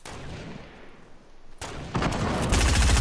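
Rapid gunfire in the video game Fortnite, building from quieter shots into loud, dense bursts of automatic fire that grow heavier toward the end.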